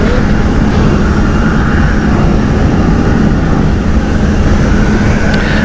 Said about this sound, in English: This is Delta's Airbus A330-900.